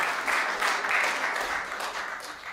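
Audience applause at a comedy stage show as a performer is welcomed, a continuous broad wash of many hands clapping at moderate loudness with no talk over it.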